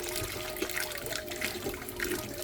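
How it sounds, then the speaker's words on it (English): Water flows steadily over a gold sluice set up for very fine gold, a constant close rushing wash with a faint mechanical hum underneath and no voices. "this is the water flow right here"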